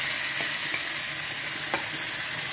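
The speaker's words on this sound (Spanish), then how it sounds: "lo voy a revolver junto con el ají mirasol, ahí para que se sofría." Onion and ají mirasol sauté in a pan for a cachema fish stew, a continuous close sizzle broken by a few light scrapes and clicks of stirring.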